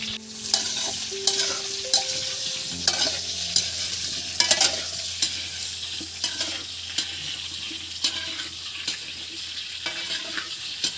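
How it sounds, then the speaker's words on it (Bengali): Potato pieces frying in hot oil for a picnic cauliflower khichuri, with a steady close sizzle broken by repeated scraping and clattering stirs of a spatula in the pan. "বন্ধুরা এদিকে আলু ভাজা চলছে"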